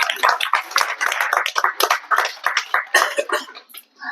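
An audience at a Tamil literary gathering for the poet Kambadasan's 109th birthday celebration claps as a guest walks to the stage. Nearby hands give crisp, uneven bursts of clapping that rise and fall in a loose rhythm.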